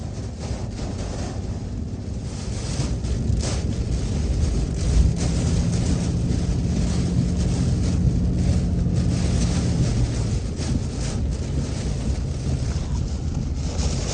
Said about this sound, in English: 360-degree wind change just happened like that.